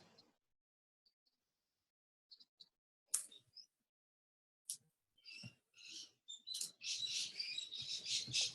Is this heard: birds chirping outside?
yes